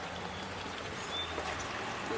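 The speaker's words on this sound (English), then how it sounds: "it's actually raining right now" Steady rain falling outdoors on a snowy morning, a continuous soft hiss with faint pattering and trickling drips, distant and even throughout with no talk.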